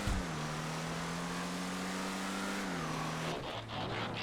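Adder sports car engine from GTA racing at sustained high revs, a steady loud drone that shifts pitch briefly near the end as the car changes gear, with no talk over it.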